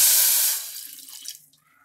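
Water pours briefly into a cooking pan for jaggery syrup, a close, bright splashing rush that tapers off within a second, followed by a few faint drips and clinks.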